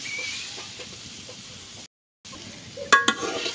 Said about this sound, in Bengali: দেখেন মূলের শাক ভাজা হয়ে গেছে